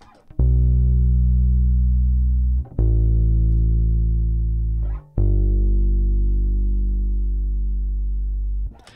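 Three heavy, distorted synth notes played one after another, each struck loudly and held with long compressed sustain that barely decays before the next one. There is no talking.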